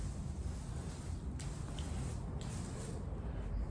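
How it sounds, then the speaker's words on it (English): Garden hose gently spraying water over crazy paving to wash in joint fill, a soft continuous hiss and splatter close by with no talking. "then just get yourself your trusted hose. Don't want to be too fierce, and then go around and water that in."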